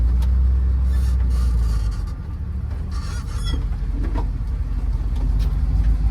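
A V8 Jeep CJ runs close by just after firing up, its deep, loud rumble holding steady with a slight dip and rise, no voices over it.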